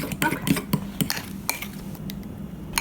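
A spoon stirring keto muffin batter in a mug, quick repeated clinks and scrapes against the mug's sides in an uneven rhythm, close and clear with no talking.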